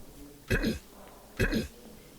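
Two short, sharp coughs about a second apart, close by and fairly loud, with a quiet pause between them.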